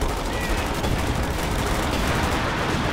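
A dense gunfire barrage in the real-time strategy game Company of Heroes 2 rolls on as continuous rapid machine-gun rattle and crackling shots, loud and unbroken for the whole stretch, with no clear speech on top.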